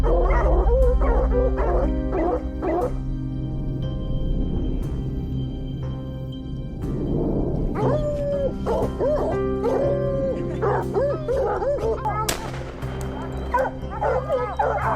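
Hunting dogs bark, yip and howl outdoors in repeated bursts, with several animals heard at once and some whimpering between the louder calls.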